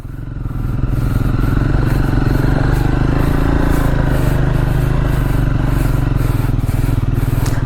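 A motorcycle rides along a mountain road, its engine a loud, steady low drone close to the microphone with continuous wind and road rumble throughout.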